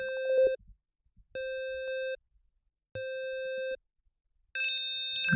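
A high-pitched square wave synth tone from BeepBox plays as four sustained, evenly spaced beeps separated by silences; the last note carries extra bright overtones.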